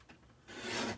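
Cardstock paper being trimmed for a handmade Z-fold card, a short dry rasping cut that grows louder and steadier through its second half, close and alone with no talking.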